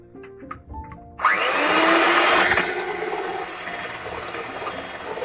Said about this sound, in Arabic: غادي نزيد عليه الكريم شونطي وغنطربو واحد شويه